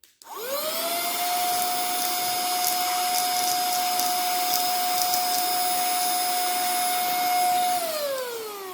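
A portable vacuum cleaner sucks up popcorn kernels, its motor spinning up to a loud steady whine with occasional rattles and clicks of kernels, then winding down at the end.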